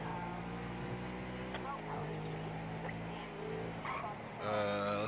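A car engine in the video game GTA V hums steadily as the car drives, with tonal revs that shift pitch and a louder rising surge near the end.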